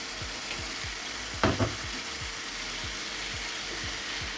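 Tilapia fish sizzles steadily in hot oil in a home kitchen pan, a constant close frying hiss with a brief louder clatter of stirring partway through.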